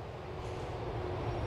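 A train passes in the video game GTA 4, a steady loud rumble and rolling clatter that swells slightly toward the end, with no voices.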